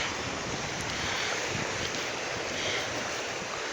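Continuous rushing surf rolls and washes along the shore, with steady wind noise buffeting the microphone throughout.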